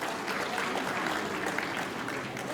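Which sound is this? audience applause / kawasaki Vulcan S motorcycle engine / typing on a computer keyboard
audience applause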